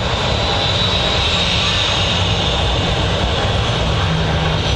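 Boeing 737 jet engines roar loud and steady at Manchester Airport, a continuous broadband rumble with a hissing high whine that holds for the whole stretch, without voices over it.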